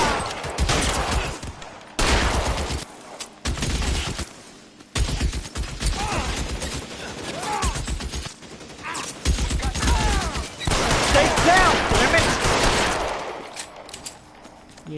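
Gunfire in LA Noire, a 1940s detective game: loud bursts of shots come in repeated volleys, split by short pauses, with a brief voice now and then.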